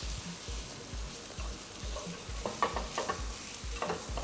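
Boiled mashed potatoes stirred in a hot oiled pan, a spoon scraping in a regular rhythm of about two strokes per second over a soft, steady sizzle, close and with no voices.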